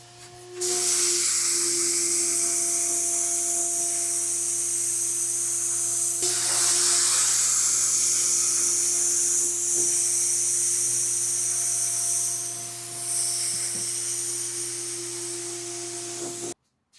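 Steady broadband hiss from a 2-quart pressure pot spray gun laying down clear coat on a small kid's art table, running continuously and fairly loud with a low tonal hum underneath, one brief break near the middle.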